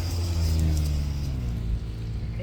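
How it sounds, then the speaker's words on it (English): Cars on a main road rumble past close by, one engine swelling loudly then easing off as another hum lingers underneath, with wind noise throughout. "And cars go."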